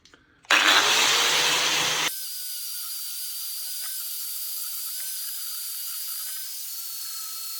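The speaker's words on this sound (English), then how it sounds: "So I've now got the wire wheel in the angle grinder, and we'll see what this comes up like." An angle grinder fitted with a wire wheel scrubs a metal coal cage, a loud, harsh burst of about a second and a half, then a steady high whine as the tool spins on without contact.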